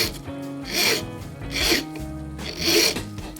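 A fine file rasps against a small tapered steel clock pin turned in a pin vise, three slow separate strokes with quiet pauses between them.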